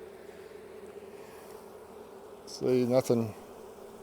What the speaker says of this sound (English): I can hear them roaring a little bit, which is an indication of queenlessness